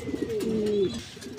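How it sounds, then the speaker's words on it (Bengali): A single pigeon gives a close, clear coo, a low gliding call lasting under a second, with faint bird chirps and other cooing in the background. "অ্যাকটিভ কবুতরগুলো এই ডাকতাছে"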